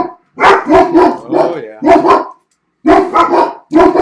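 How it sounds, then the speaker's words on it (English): A dog barks loudly and close by in quick bursts of several barks separated by short pauses, with a brief word spoken among them. "There's your dog noise."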